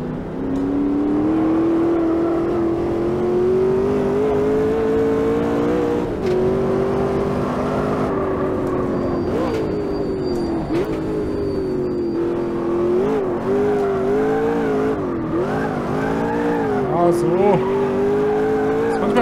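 A race car drifting in Automobilista 2 with a 700 Nm engine, a loud sustained engine drone rising and falling in pitch as the throttle is worked, with someone talking throughout.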